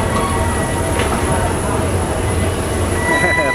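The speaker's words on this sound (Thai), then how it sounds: "นิวไม่ขึ้นเหรอรถไฟอ่ะ" A loud, steady rumble of a steam train of locomotives 824 and 850 (Pacific) at Bangkok station, with faint metallic wheel squeal on top, continuous throughout.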